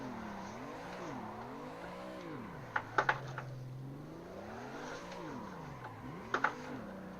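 Car engine revving up and down during drifting in the Assetto Corsa racing game, with short bursts of tire squeal at a moderate, steady level and no talking.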